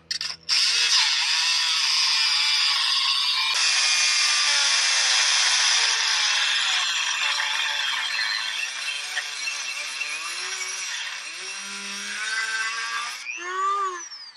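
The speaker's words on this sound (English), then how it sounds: "So I'm just going to cut the bottom part of that bolt, make sure I don't cut any part of that front axle here." A power tool cuts through a bolt beside a vehicle's front axle during front shock work in a backyard garage, a loud, steady, high-pitched grinding whine that runs almost unbroken for the whole stretch, close up, before cutting off.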